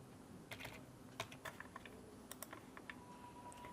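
Someone types a captcha on a computer keyboard, producing a faint, irregular run of light key clicks against a quiet hum, with no voices.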